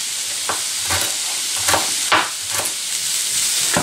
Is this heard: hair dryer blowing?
no